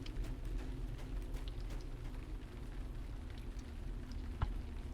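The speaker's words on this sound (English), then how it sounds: "As you can see, it's a lovely rainy day here" Steady rain falls across the Barrow-Downs in Lord of the Rings Online, a constant hiss of drops on the ground with a few patters and a brief louder tap near the end, and no voices.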